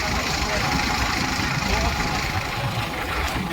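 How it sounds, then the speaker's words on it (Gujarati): A farm tractor idles steadily nearby with a low continuous engine rumble, running evenly for a few seconds before it is shut off, with no voices over it. "હવે જો ટ્રેક્ટર બંધ કરવા જાય"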